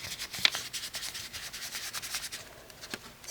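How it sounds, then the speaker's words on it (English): A sponge rubbed against a brown ink pad and across paper edges for a file folder craft, giving a quick run of soft, scratchy rubbing strokes close up with no talking. "I just rub the sponge onto the ink pad,"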